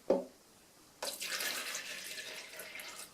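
Hot tap water running into a jug in a kitchen: a brief knock, then a steady splashing pour that continues to the end, fairly close and alone.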